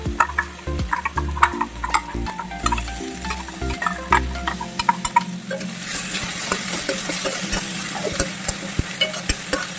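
Ground ginger, garlic, tomato and onion masala fries in a pan for chana masala. Loud, close sizzling continues under frequent stirring scrapes and light ticking taps of a spoon against the pan, with the hiss brightening partway through.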